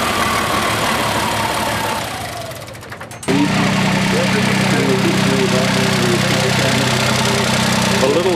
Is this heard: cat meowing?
no